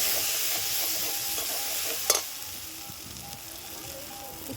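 Ground cumin and coriander spices sizzle steadily in hot oil in a pan while being sautéed for a Bengali fish curry, with one sharp stirring scrape partway through and no talk.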